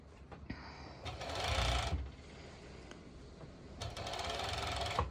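A serger sewing a seam on stretchy activewear fabric for ruched shorts, whirring in steady bursts with short pauses between, close and fairly quiet.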